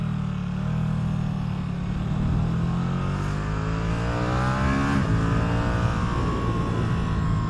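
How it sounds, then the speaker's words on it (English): A Ducati Streetfighter V2 motorcycle running with its stock exhaust, a loud continuous engine note that climbs in pitch as it revs up, dips sharply near the five-second mark, then rises again, no talk. "It's got a really good sound for a stock exhaust."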